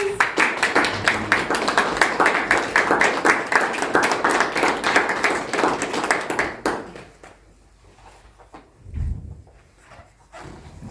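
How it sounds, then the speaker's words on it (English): Audience applauds at a certificate of appreciation presentation during a book inauguration event, a dense, steady round of clapping for about six and a half seconds that stops abruptly, followed by quiet room noise and a brief low thump. "So a round of applause."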